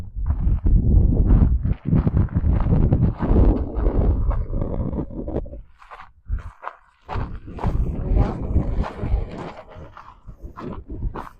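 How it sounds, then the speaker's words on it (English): Strong wind at Craters of the Moon gusts hard against the microphone, a loud, continuous low buffeting that eases briefly midway and then returns. "that wind is getting kind of breezy"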